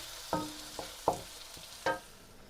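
Meat sautéed in a pan for pork afritada gives a soft sizzle broken by four distinct stirring scrapes and clanks spaced irregularly, close and fairly quiet, with no talk.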